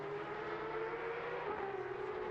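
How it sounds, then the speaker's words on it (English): A Porsche Cup race car's engine screams steadily at high revs through a gear change on the Barcelona circuit in a sim racing series, a continuous loud whine with a brief dip mid-clip. "That scream as it changes gear and wants to get the power down again."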